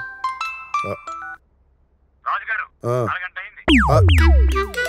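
Voices talk briefly before a phone's ringtone bursts in loudly near the end, a bright electronic chime with sweeping tones.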